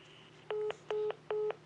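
Three identical telephone keypad dialing tones beep in a steady, evenly spaced rhythm, each short and clear against a faint hum.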